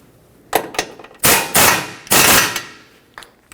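Sharp metallic bursts from a tool tightening the steering knuckle mounting nut on a 2006-2010 Hyundai Sonata, three loud rattling bursts of roughly half a second each plus a few brief knocks, close by with no talking.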